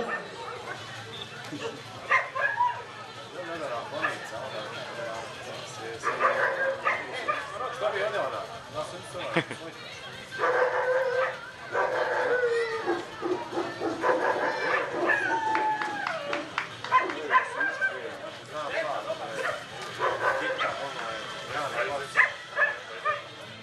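Dogs bark and yip intermittently at a dog show during Junior Best in Show judging, the barks scattered in the background beneath continuous narration by a man.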